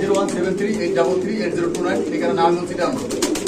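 Pigeons coo steadily in a loft, a low, continuous burble of several birds close by, with people talking over it throughout.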